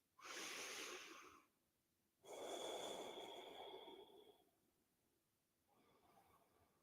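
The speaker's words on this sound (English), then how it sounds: "Couple of deep breaths." Two long, deep breaths during a floor yoga pose, each a breathy rush lasting a second or two with a pause between, followed by a softer third exhale.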